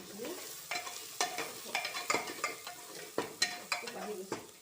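Spiced food being stirred in a frying pan, a spatula scraping in repeated uneven strokes over a low sizzle, close and clear with no talking.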